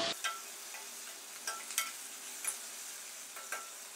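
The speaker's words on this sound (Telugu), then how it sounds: "పచ్చి బఠానీ కూడా వేగాక ఉల్లిపాయ ఇలా సన్నగా కోసుకుంటే మగ్గిపోతుంది" Thinly sliced onions and green peas fry in a pan with a soft, even sizzle, broken by a few sharp scrapes and stirs of a spoon, close and moderately loud.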